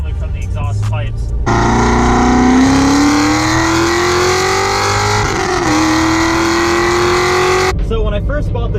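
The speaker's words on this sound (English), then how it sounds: "These cars sound incredible. It's got a big old 427 LS7 V8." A Corvette's 427 LS7 V8 revs loudly through its exhaust, a sustained rising howl held for several seconds with a brief dip before climbing again, then cutting back to a rumbling idle, with talk heard before and after.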